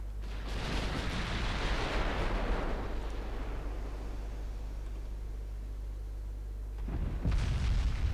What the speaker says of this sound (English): Bisson explodes